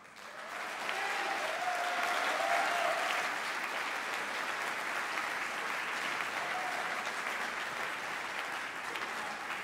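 An audience claps to welcome a wind orchestra from Ferentino, Italy onto a concert stage, with dense, steady applause that rises quickly and holds at an even level for nearly ten seconds.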